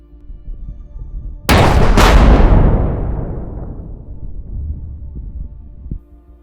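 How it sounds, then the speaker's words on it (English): A single mortar shell explosion, a sudden loud blast with a sharp second crack, then a long rumbling decay fading out over several seconds. "The mortar shell landed with pinpoint accuracy, resulting in a powerful explosion."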